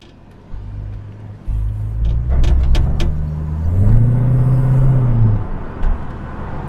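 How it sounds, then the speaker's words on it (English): Ford Falcon XD with a 4.9 V8 driving, its engine rumbling low and steady, then swelling as it accelerates with a rising drone, heard close and alone. "That is such a smooth V8 noise."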